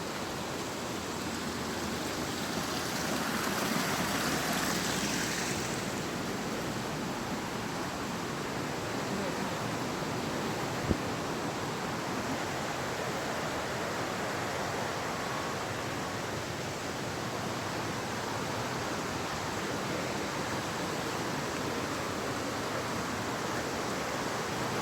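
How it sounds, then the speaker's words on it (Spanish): The Oyacachi river rushes near waterfalls, giving a steady, dense hiss of flowing water that stays loud and even throughout, with no voices over it. "El río Oyacachi."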